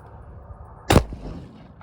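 A single loud blast from a 12 gauge shotgun firing 3-inch Federal Magnum buckshot at an outdoor target, a sharp close report with a short decaying tail over quiet background.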